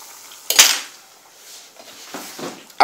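Potato fries are stirred in a frying pan with a few sharp utensil scrapes and clinks against the metal, separated by quieter sizzling, with no talking.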